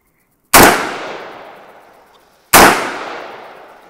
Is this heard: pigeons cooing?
no